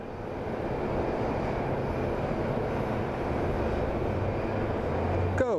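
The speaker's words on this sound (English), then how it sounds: "It's an Embraer Legacy 550 that's about to depart." An Embraer Legacy 550 business jet departs from Phoenix Sky Harbor International Airport, its engines a steady, broad roar that holds loud and even throughout, with a brief sharp sound at the very end.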